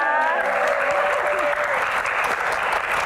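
An audience applauds a singing trio at a dangdut music event with full, steady clapping, and a voice talks over the first second before the clapping carries on alone.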